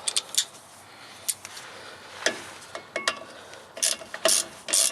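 Bolts are snugged down on a 2008 Ford Ranger transmission during rear seal work with a ratchet, giving irregular bursts of sharp clicking and ratcheting with pauses between, close and fairly quiet, without speech.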